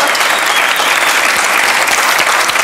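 Studio audience at a French TV game show applauds Philippe Guérin, a dense steady wash of clapping sustained at even loudness throughout, close and full with no voices standing out.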